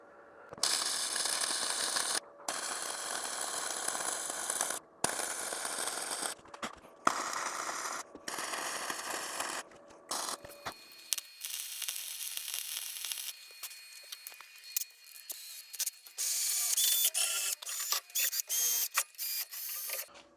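MIG-style welding on a thick steel plate fitted to a Ford Festiva core support, a steady close crackling buzz running almost continuously, broken by short pauses between beads, with no talking.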